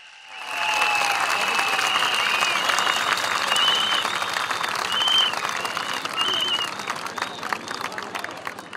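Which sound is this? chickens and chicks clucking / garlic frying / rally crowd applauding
rally crowd applauding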